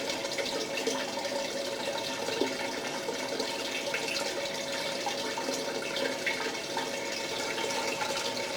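Water runs steadily into a blue bowl gold concentrator, a continuous even rush and splash held at constant level close by throughout, with no voices.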